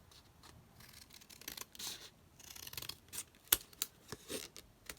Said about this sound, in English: So I'm just going to snip this out here.